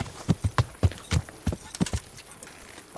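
Horse hooves clip-clop steadily in the medieval world of Kingdom Come: Deliverance, a rhythmic series of close, distinct hoofbeats that trail off toward the end.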